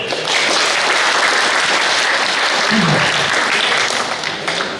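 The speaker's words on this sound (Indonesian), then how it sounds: "Tepuk tangan dulu." A crowd at a COVID-19 gathering for the Sampang regent applauds steadily and loudly throughout, a dense continuous clatter of many hands that swells slightly midway before tapering.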